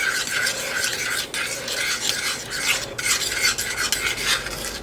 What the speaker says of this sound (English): So add it and give it a good stir in.